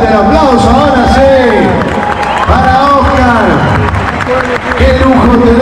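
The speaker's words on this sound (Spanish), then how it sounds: "Ahí está, fuerte el aplauso" A large crowd at the Giro de Rigo 2022 cycling event claps and cheers loudly throughout, under a steady amplified voice of someone talking over a public address system.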